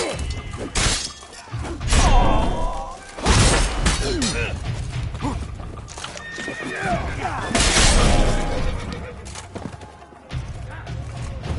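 Horses neigh and whinny amid a chaotic fight scene in The Witcher 3 Blood and Wine video game, loud and busy with crashing, clattering and mechanical noises throughout.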